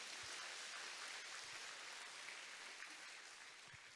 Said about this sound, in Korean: 우리 하나님께 영광의 박수 올려드려요.